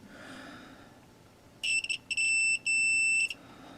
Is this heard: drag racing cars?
no